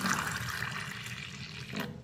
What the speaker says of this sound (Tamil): இப்போ இதில் வந்து தண்ணி நல்லா ஊற்றிக்கிடுவோம்.